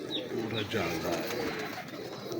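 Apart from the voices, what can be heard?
pigeon cooing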